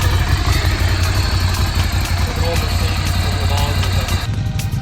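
A 2019 Ducati Scrambler Cafe Racer idling just after starting, a close, loud, steady low engine rumble with faint mechanical clatter and no break throughout.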